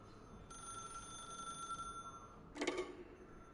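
A telephone rings in The Stanley Parable video game: a steady electronic ring tone lasts about a second and a half, followed by a brief louder ringing burst, over a quiet game-room background.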